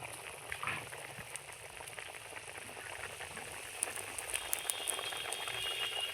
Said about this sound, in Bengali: টকবক টকবক করে ফুটছে বন্ধুরা, দেখুন তরকারিটা কি সুন্দর উনুনে ফুটছে দেখুন।